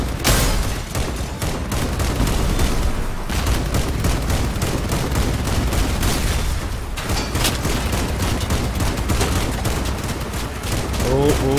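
Heavy gunfire from a firefight in the Crossout vehicle combat game, with dense, continuous bursts and booming impacts filling the whole stretch, loud and close, with a few speech-like sounds mixed in.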